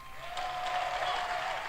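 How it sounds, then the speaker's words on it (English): Faint, steady applause from a crowd at a live main-stage event at Universal Orlando, a soft continuous patter of clapping heard from a distance, with a thin tone running beneath it. "Can we get another round of applause for the hardworking teams at Rare Drop as well"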